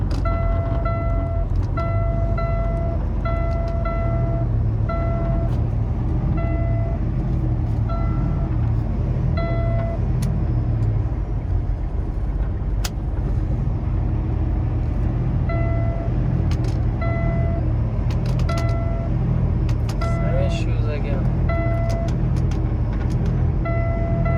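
Kenworth T680 truck with a PACCAR engine and an Eaton transmission, engine running and revving on its own in the cab. A steady loud low rumble continues throughout, with a faint repeating tonal chime over it and no talk.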